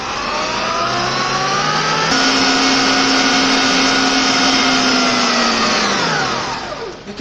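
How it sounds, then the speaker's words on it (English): An electric stand mixer kneading doughnut dough runs as a loud, steady motor whine, its pitch shifting a step about two seconds in and winding down near the end, with no talking. "turn on your mixer and continue."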